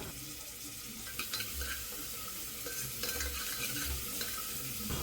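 Onion and tomato for a Vidarbha-style mutton dish fry in a pan with a steady sizzle and repeated scraping stirs, close and fairly loud, no voices.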